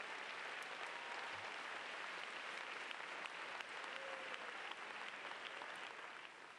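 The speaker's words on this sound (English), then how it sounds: "Give them a big round of applause," Large crowd at a school district convocation claps for newly introduced educators, a sustained, fairly distant round of applause with scattered sharper claps standing out.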